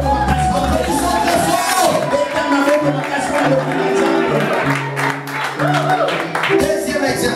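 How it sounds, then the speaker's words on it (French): A church congregation at a Sunday baptism service claps and cheers loudly, the applause layered under music and voices that carry through the whole stretch. "tu vas applaudir très fort pour la gloire de Dieu"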